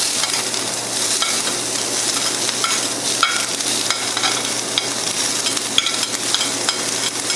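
Cayenne peppers fry in a hot pan with about a tablespoon of olive oil, giving a loud, steady, close sizzle that continues without talk.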